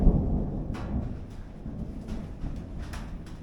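Thunder from a thunderstorm with hail rumbles low and steady, opening with a nearer crack, while faint scattered taps of hail sound over the rolling roar.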